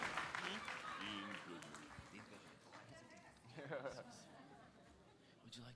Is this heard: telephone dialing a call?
no